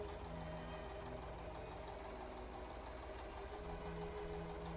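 A vintage Ford tractor in Farming Simulator 25 idles at an even, steady chug, with a faint, continuous, droning engine hum and no speech.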